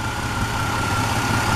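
A car engine idles smoothly with a steady, even low hum and no misses, heard close up and with no talking.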